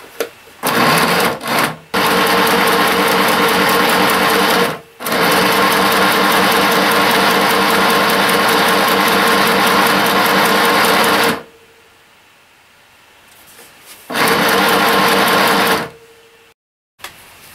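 A sewing machine stitches a pillow case in long, loud continuous runs, stopping briefly around two and five seconds, then pausing into near silence before one more short burst.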